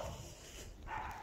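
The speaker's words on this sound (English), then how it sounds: "Oh, shut up, dog." A dog barks in a video game set in a garden, a few quick low barks heard faintly against a steady background of game sound, with no talking.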